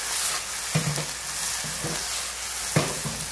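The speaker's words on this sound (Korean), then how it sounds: "무조건 센 불에 빨리 볶아주시면 돼요" Mung bean sprouts are stir-fried fast over high heat with oyster sauce and a little chicken powder. A continuous close sizzle runs throughout, broken by several quick scraping stirs of the pan.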